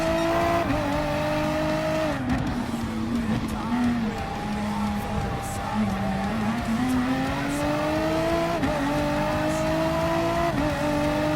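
Racing car engines roar in Gran Turismo Sport with a BMW M6 close behind, a continuous loud engine drone rising and falling through gear changes over eleven seconds, with brief tire noise.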